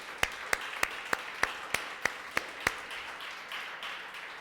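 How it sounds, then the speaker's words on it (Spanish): Church congregation applauding during a Spanish-language service: distinct, evenly spaced claps ring out fairly close, then thin into a faint wash of scattered clapping. "Dele un aplauso al Señor, que Él es bueno."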